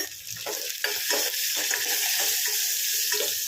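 Tempering spices sizzle and crackle in hot oil for Telangana-style pachi pulusu, a close, continuous frying hiss with occasional stirring scrapes.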